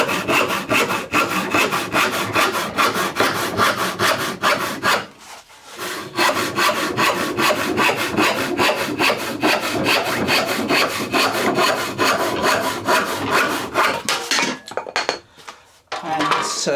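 Hand saw cutting through plywood in steady, rapid back-and-forth strokes, loud and close, with a brief pause near the middle and a few broken final strokes as the cut ends.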